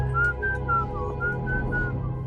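A single person whistles a soft, slow melody of sustained notes close by, set over a low steady hum.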